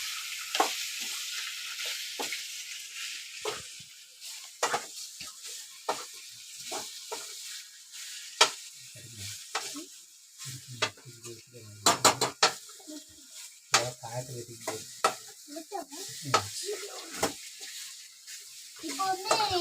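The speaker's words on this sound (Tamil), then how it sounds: "இப்போ வந்து நீங்க எல்லாருமே கறி வணக்கிட்டே பார்த்துருக்கீங்க." Meat curry sautés in a pan with a steady sizzle, broken by repeated scraping and clinking of a spoon stirring against the metal, and a voice is faintly heard in between.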